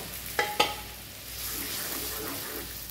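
Cooked beans hit a hot seasoned pan with two quick clacks of a spoon, then a soft steady sizzle continues close by.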